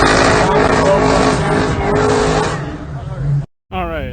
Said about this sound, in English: Mustang crosses first